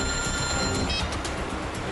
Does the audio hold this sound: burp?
no